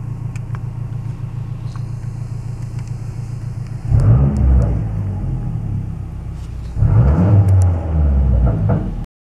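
A burble-tuned Mazdaspeed6 idles with a steady low rumble, then its engine revs hard in two loud surges, each rising and settling back to a rough idle.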